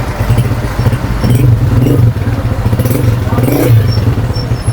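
A Honda CG 125 single-cylinder motorcycle idles steadily, captured close to the silencer, with a loud, even thumping exhaust note and light mechanical clatter throughout.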